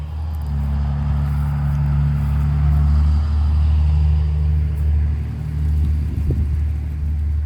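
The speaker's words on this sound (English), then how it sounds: "These farm trucks are so noisy." Low, steady engine rumble of a noisy farm truck driving past outdoors, holding fairly loud throughout with a slight swell in the middle and no talk.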